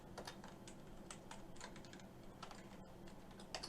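Steady, close typing on a computer keyboard during algorithm practice, with quick irregular keystrokes and occasional louder taps running throughout.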